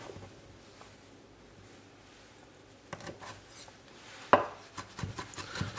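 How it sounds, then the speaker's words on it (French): A knife chops gherkins finely on a board, starting faint and then turning into a run of close, crisp, irregular taps and cuts that grow louder toward the end, with no talking. "émincer en tout petits carrés bien finement 2 cornichons"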